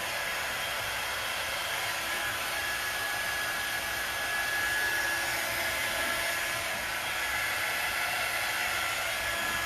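A hair dryer blows continuously at close range, a steady loud whirring rush with a faint high whine, drying something for about ten seconds without pause.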